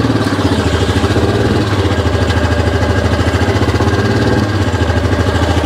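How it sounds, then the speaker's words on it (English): A full-size stock ATV idles loudly and close by with a steady, throbbing engine pulse while being loaded into the short bed of a third-generation Toyota Tundra pickup, with no talking. "So here's a side view of loading the ATV up against the bulkhead."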